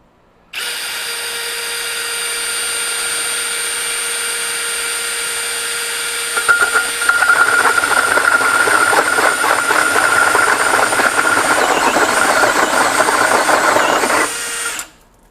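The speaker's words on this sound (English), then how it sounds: "now I've got more of a typical style hole saw, so it should not be a problem to do this, but this is 3 5/8 inches." A Milwaukee M18 FUEL Gen 4 2904 hammer drill driver spins up with a steady high whine, then bites into the workpiece with a 3 5/8 inch hole saw, adding a rough, chattering grind before stopping; loud and close, no talking.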